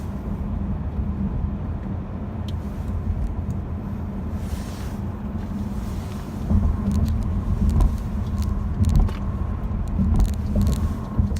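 Quiet interior road noise from a 2018 Ford C-Max hybrid cruising in electric mode, a low steady hum and rumble that swells slightly partway through, with no engine roar.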